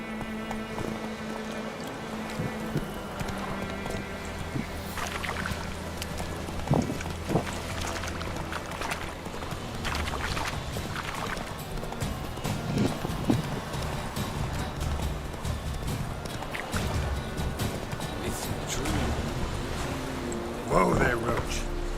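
Roach the horse gallops in The Witcher 3, hooves clip-clopping in a fast, steady rhythm beneath a dense, busy game mix, with occasional louder thuds throughout.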